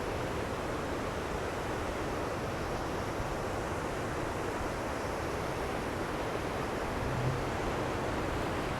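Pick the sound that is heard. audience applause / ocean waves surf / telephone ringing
ocean waves surf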